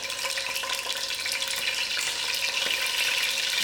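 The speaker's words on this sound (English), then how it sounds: "Firstly, I'm going to put in my potatoes." Potatoes fry in oil in a pot for mutton biryani, a steady, close, bright sizzle that holds evenly throughout with faint crackles and no talk.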